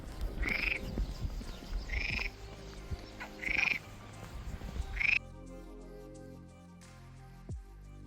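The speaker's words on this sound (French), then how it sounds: "Ah, on a notre grenouille." A frog croaks outdoors at night in a lamp-lit small Spanish town on the Camino de Santiago. Four loud, rasping calls come at a steady pace, then fade into quiet background hum.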